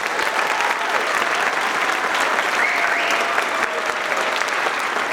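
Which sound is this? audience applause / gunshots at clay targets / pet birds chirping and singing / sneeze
audience applause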